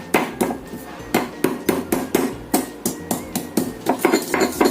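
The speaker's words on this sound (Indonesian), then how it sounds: "Di sini aku siapkan 3 siung bawang putih. Ini kita ulek halus dahulu." Three garlic cloves are pounded smooth with a stone mortar and pestle, a steady series of sharp, close knocking strikes about twice a second, each followed by a short grinding scrape.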